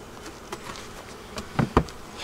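Honey bees buzz around hives in a bee yard during inspections, a soft steady hum with a couple of louder passes as individual bees fly close to the listener.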